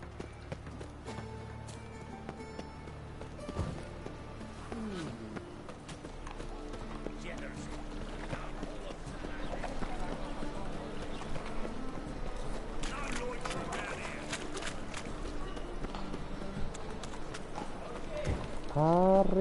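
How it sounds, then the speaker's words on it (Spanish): Horse hooves clip-clop steadily in The Witcher 3: Wild Hunt video game, a rhythmic gallop running throughout beneath game sounds and someone talking. "arre caballo."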